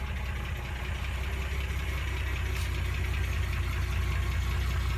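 A Wolseley 690 car engine idles at normal operating temperature, a steady low rumble with even pulsing throb, close and constant, and no one speaking.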